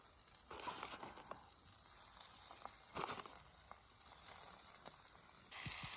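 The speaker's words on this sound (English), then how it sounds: "I'm going to pop the sausages in now" Sausages sizzle in a pan over an outdoor campfire, a faint, steady crackle with occasional pops and no talking.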